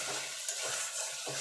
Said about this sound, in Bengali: দিয়ে এটাকে একটুখানি নাড়াচাড়া করে নেব